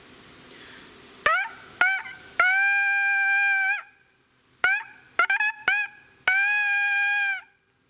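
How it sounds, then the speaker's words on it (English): A medieval-style horn sounds calls of short and long blasts: a few quick stabs, a sustained tone, a pause, then another cluster of short bursts ending in a long steady note, loud and close. "We're worried about a short blast, long blast, pauses in between"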